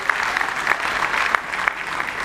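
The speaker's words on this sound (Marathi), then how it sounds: "जोरदार टाळ्या झाल्या पाहिजेत सुदेजींच्या मंचावरील आगमनासाठी." Vigorous audience clapping at a Marathi music awards ceremony greeting a guest arriving on stage, a full steady round of applause with occasional louder single claps cutting through.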